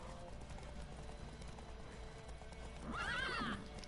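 A horse in The Witcher 3 makes a soft steady clip-clop of hooves under game ambience, then lets out a loud, clear neigh near the end.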